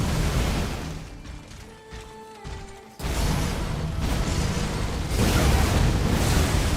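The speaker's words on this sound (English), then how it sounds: "How did that explosion of blood flame hit me?" A blood flame explosion bursts in a video game and strikes the player's character: a loud, dense roar of broadband noise with an abrupt onset that sustains and swells again, heard alone with no talk.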